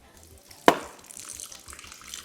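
Liquid poured into a cooking pot while making nkwobi with cow leg, a brief sharp splash followed by a faint running trickle.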